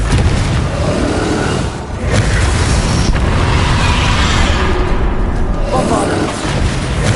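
Confringo fire spell explosions in Hogwarts Legacy combat, loud booming blasts with dense rumbling debris, a few bursts rolling into each other amid a busy fight, with a voice shouting between them.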